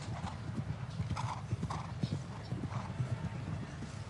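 A horse gallops on arena footing during a 160 cm grand prix show jumping jump-off at Chantilly, its hooves drumming in a rapid, steady rhythm. The sound is fairly faint and distant, with crowd murmur and a commentator's voice underneath.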